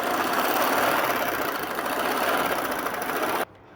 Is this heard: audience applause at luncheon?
no